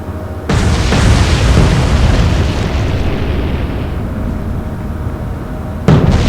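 Naval gunfire and explosions in the Atlantic Fleet game at point-blank range: a sudden loud booming blast that rolls into a long, dense rumble, with a second sharp burst near the end.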